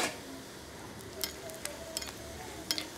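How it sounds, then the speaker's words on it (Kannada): Mustard seeds pop in hot ghee for a tempering, a soft steady sizzle close by with a few scattered sharp spluttering crackles. "ಇವಾಗ ಒಗ್ಗರಣೆ ಸಿಡಿತಾ ಇದೆ"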